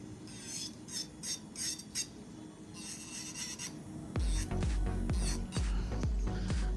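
Electric nail drill with a customized smooth bit filing and shaping a nail to a concave stiletto-style point, giving close, steady raspy grinding in short strokes that grow louder and more rhythmic toward the end.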